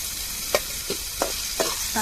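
Chopped tomatoes fry in a pan in a Tamil home kitchen, a steady sizzle broken by four or five soft scrapes of a spoon stirring at a regular pace, close by with no talk.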